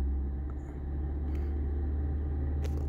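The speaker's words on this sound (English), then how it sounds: "push on the brake and floor the accelerator, and the RPMs will slowly go up" A 2003 VW Passat engine hums under a floored accelerator, a steady low rumbling drone with revs creeping slowly upward, heard up close with no talk.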